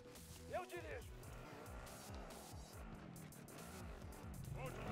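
A car in Call of Duty Warzone drives with a rising and falling engine drone and brief tyre squeals. The sound stays quiet throughout, while voices talk over it almost the whole time.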